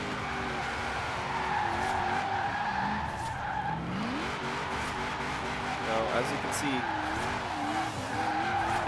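A V8 drift car in Forza Horizon 4 with tires skidding and squealing steadily through slides, its engine note rising and falling, loud and continuous under someone talking over it.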